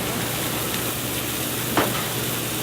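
Garlic cloves sizzle steadily in a pan with white wine for a New Orleans style dish, a constant close frying hiss with one brief sharper crackle near the end and no talking.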